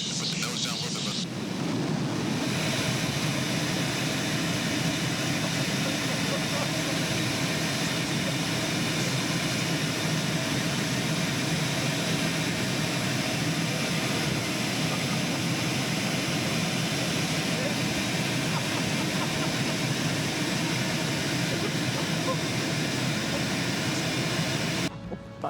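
Steady, loud engine drone of a small airplane in flight, a continuous broadband roar holding level for the whole stretch with no clear voices over it.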